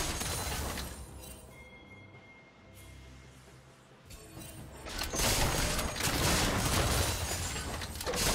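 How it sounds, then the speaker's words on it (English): A defensive tower crumbles in a multiplayer battle arena game, a crashing, shattering burst of debris that swells loud in the latter half after quieter mechanical effects. "Blue team's turret has been destroyed."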